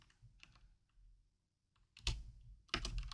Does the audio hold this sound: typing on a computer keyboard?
yes